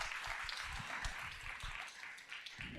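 An audience at a live business talk gives a brief round of applause, faint and distant, with scattered claps over a couple of seconds.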